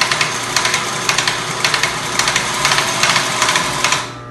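Sewing machine running steadily while stitching elastic onto a frufru bikini, with a continuous close mechanical whir and rapid needle chatter, marked by small regular accents, until it slows to a stop near the end.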